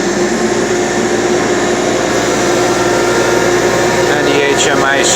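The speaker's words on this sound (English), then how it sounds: "Now the machine's running." A hypoid gear machine runs with its independent oil pumps energized, giving a steady, loud mechanical hum and broadband whir that holds throughout, with some faint higher-pitched tones near the end.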